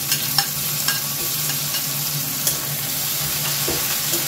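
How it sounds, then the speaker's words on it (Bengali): Chopped tomatoes go into a pan of garlic frying in oil, giving a steady moderate sizzle with scattered light clicks and stirring scrapes, no voices over it. "এবার এর মধ্যে দিয়ে দেব কুচো করে রাখা টমেটো"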